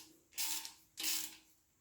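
Ratchet loosening the pickup tube bolts on a 5.3L LC9 engine, two short bursts of quick close clicking separated by a brief pause, fairly faint with no talking.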